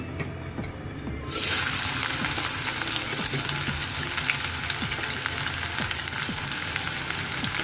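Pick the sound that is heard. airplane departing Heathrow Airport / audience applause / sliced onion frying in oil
sliced onion frying in oil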